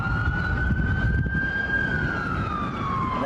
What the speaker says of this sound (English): Ambulances have the loudest damn sirens.